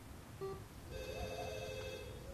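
A mobile phone ringtone in the horror video game Ju-On, a short electronic tone followed by a sustained melodic ringing, clear and moderately loud over a low background hum.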